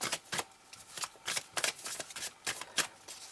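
Tarot cards are shuffled by hand in quick, crisp riffling bursts, close and fairly loud, repeating in an uneven rhythm with no talking.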